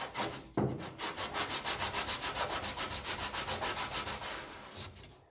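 Hand sanding body filler on a 1969 B-body car panel: a steady run of about twenty even back-and-forth rasping strokes, close and fairly loud, after a brief opening scrape, with no talking.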